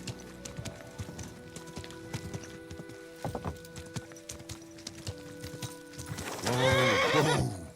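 A horse in Kingdom Come: Deliverance II clip-clops at an uneven walk, hooves thudding close, then breaks into a loud, drawn-out whinny near the end.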